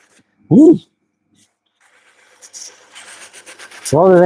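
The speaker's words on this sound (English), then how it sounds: "I want to just see if I can sand out the rest" Hand sanding on a craft piece produces soft, irregular rubbing and scratching strokes, fairly faint, between bursts of a man's speech.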